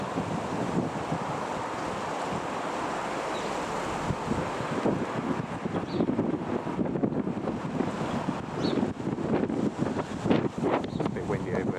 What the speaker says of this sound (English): It's a bit windy over there.